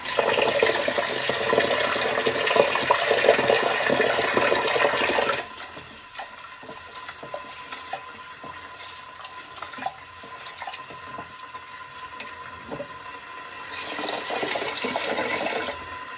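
Water rushes strongly from a kitchen tap while rinsing rice for arroz caldo, running loud for about five seconds, then dropping to quieter trickling, and swelling again near the end.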